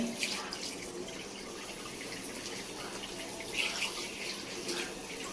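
Water runs continuously from a tap while a child plays in it, a steady splashing gush with small bursts of louder splatter.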